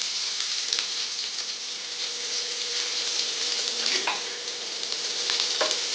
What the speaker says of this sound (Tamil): இதை வந்து நல்லா ஃப்ரை ஆக விடுங்க ஆனியனை.